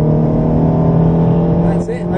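A Ferrari engine accelerates on a racetrack with a loud, sustained tonal roar that stays close and strong, dipping briefly near the end, as someone speaks over it.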